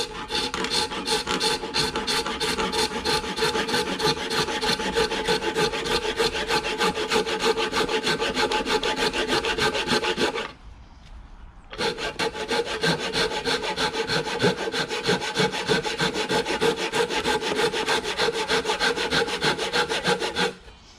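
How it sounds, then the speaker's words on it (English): A hand saw resawing wooden boards at a Roman-style workbench, with steady rhythmic rasping strokes close by, a brief pause midway, then the sawing resumes at the same even pace. "actually resaw some boards like this, which can be a little bit difficult"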